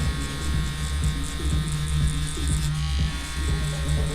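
Tattoo machine buzzing steadily up close while shading a gradient with yellow pigment, a constant electric hum with a low-pitched drone and faint rhythmic ticks, and no voices over it.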